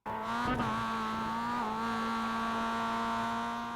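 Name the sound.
Mazda MX-5 race car on Charlotte Roval, iRacing video game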